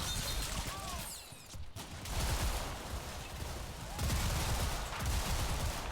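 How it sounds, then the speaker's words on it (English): Submachine gun bursts from an infantry squad in the Combat Mission: Red Thunder war game, a dense fusillade of rapid gunfire rattling through most of the stretch alongside other battle sounds, with a brief lull near the middle. "One keyholed SMG squad inflicts a lot of casualties."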